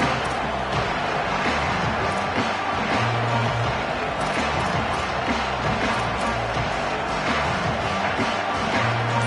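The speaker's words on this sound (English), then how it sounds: "This crowd ready to make its presence known." A packed college football stadium crowd at a Notre Dame game roars in a constant, loud, dense wash of cheering that continues without a break.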